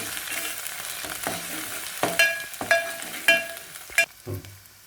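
Urad dal ghute masala paste sizzles and fries in hot oil, a steady loud crackle broken by several sharp stirring scrapes and clinks of a spoon against the pan.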